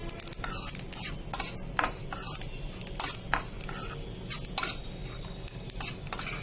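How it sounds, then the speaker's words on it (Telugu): Ingredients for ridge gourd chutney stirred quickly in a kadai over low heat, with repeated scraping and clinks of a spoon against the pan over a steady frying sizzle, close and fairly loud. "స్టవ్ని బాగా సిమ్లో పెట్టుకుని బాగా ఫాస్ట్గా తిప్పుతూ ఉండండి"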